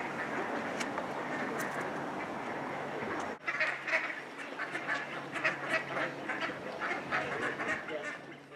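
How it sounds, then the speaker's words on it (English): Ducks quack loudly and excitedly below a riverside spot in Bradford on Avon, a busy overlapping chorus of rapid quacks heard at a moderate distance over steady outdoor background noise. "There's some ducks going mental down there."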